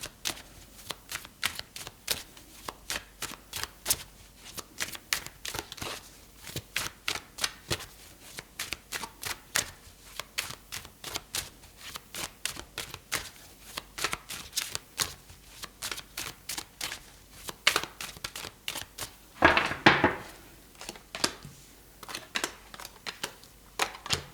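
Tarot cards shuffled by hand, a long sequence of quick riffling and flicking bursts in irregular rhythm, close and crisp, with one louder cascade near the end and no speech.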